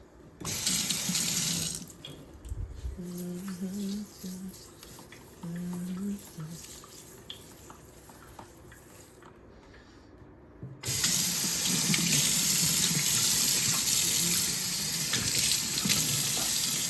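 A kitchen sink tap gushes loudly in two long bursts while dishes are washed, with quieter stretches of clinking and a voice speaking between the flows.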